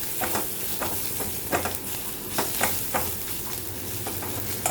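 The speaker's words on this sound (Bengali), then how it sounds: "ফোড়নে দিয়ে এটাকে আমি একটু নাড়াচাড়া করে নেব।" Asafoetida, grated ginger and curry leaves stirred in hot oil, a steady close sizzle broken by repeated scraping strokes of the spoon against the pan, no one talking.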